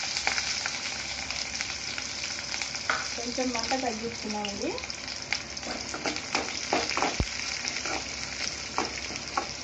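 Onions fry in hot oil with garlic and seeds for a spinach chutney tempering, a steady close sizzle with occasional stirring scrapes, while someone talks briefly over it.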